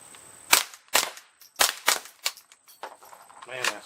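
Suppressed .22 LR subsonic rounds from a Rossi rifle fired into dirt outdoors: about six quiet, sharp pops spaced under a second apart, each short and snappy with a faint click of the action.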